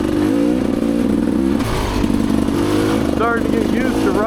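A Rieju Ranger motorcycle works along a single-track trail as the rider feathers the clutch, its engine note wavering in pitch close to the microphone, with wind rumble and a voice talking over it.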